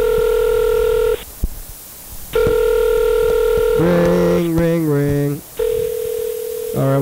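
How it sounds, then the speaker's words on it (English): Telephone tones on a line: steady dial-tone-like beeps cut in and out, followed by a quick string of descending keypad dialing tones, then more tone. "can hear the phone ring in the background."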